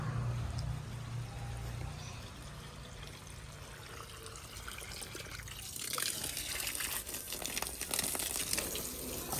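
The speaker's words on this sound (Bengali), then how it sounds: "একটু পানি মারিয়ে দেবো শুধু" Water hosed onto a tractor to wash it, a continuous hissing spray that grows louder and harsher partway through, close by with no one talking.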